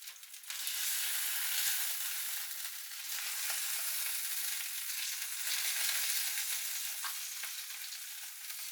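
Tomato sausages fry in a pan on the hob, a loud, steady, close sizzle with faint crackles that starts abruptly and holds evenly throughout.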